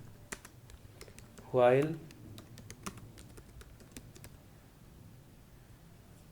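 Computer keyboard typing during a programming lesson on 2D arrays in C, faint scattered key clicks throughout, with someone briefly speaking over them.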